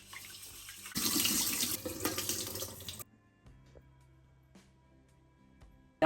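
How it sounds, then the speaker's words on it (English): Cold tap water runs loudly onto sushi rice being washed for about two seconds, then falls to a quieter trickle and faint handling sounds. "Wash the rice with cold water."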